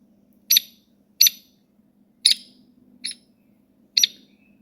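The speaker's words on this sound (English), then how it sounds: "Oh, woodpecker." Five sharp, bright woodpecker calls from a phone app ring out at uneven intervals over a faint low hum, each a short burst with quiet gaps between.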